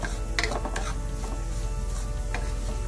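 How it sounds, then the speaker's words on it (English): Spice powders, including turmeric, Kashmiri chili and poppy powder, fry in oil for a Chettinad prawn masala, giving a steady close sizzle with scraping stirs throughout, no voices. "Give it about a few seconds to fry in the oil"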